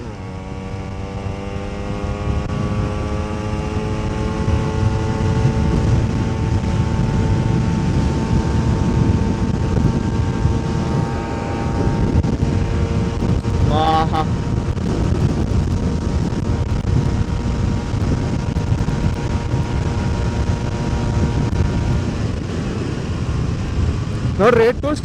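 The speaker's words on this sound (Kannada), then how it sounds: "2 ಸ್ಟ್ರೋಕ್ ಇದು 4ನೇ ಗೇರಲ್ಲಿ ಇದೆ" Yamaha RX two-stroke motorcycle ridden hard in fourth gear, its engine a steady buzzing drone with rising harmonic pitch under heavy wind rush against the microphone, continuous for the whole stretch.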